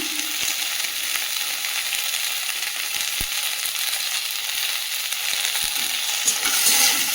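Vegetables and greens fry in a pan with turmeric and salt, giving a steady, dense sizzle close by, with occasional soft clicks of stirring and no talk.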